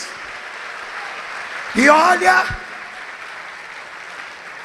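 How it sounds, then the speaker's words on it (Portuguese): A church congregation applauds during a sermon, a soft, steady background of clapping hands, with a voice briefly rising over it partway through. "Vamos aplaudir o Senhor."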